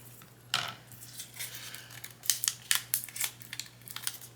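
Vinyl being scraped down onto a Cricut blank, a sharp swipe followed by a run of quick, close scratchy strokes and crackles over a low steady hum.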